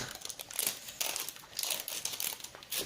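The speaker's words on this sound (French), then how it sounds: "nous allons pouvoir commencer à ouvrir la deuxième poupée LOL" Plastic packaging of an LOL Surprise doll crinkles and crackles in bursts as it is pulled open, close and quiet, with no talking.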